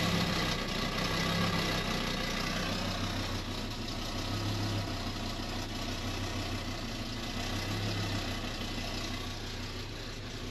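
A warmed-up Audi 100 engine idles steadily and close by, running rich and smoky with a rough, labouring note under a constant low rumble, with no talk over it.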